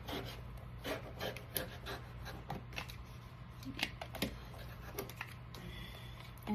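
Scissors cut through denim for an upcycled bag, snipping and rubbing in short, irregular strokes at close range, fairly quiet, with no talking.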